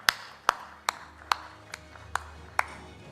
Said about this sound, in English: Huge round of applause for Mr. Amit Tripathi.